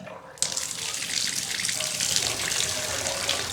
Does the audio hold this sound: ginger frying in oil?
no